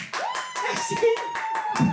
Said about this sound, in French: est-ce que tu peux applaudir juste pour le kiff, s'il te plaît?